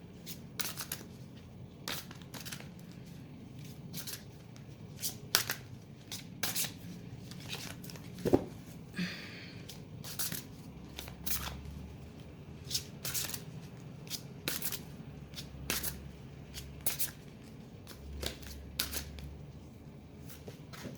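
Tarot and oracle cards being shuffled by hand, a steady run of soft, close riffling and slapping card sounds repeating over about twenty seconds with no talking.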